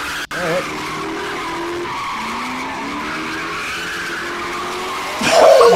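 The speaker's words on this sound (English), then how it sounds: "he's trying to do a burnout" Car tires spin and squeal in a burnout attempt, with a sustained wavering screech over engine roar that grows louder near the end, and voices audible in the background.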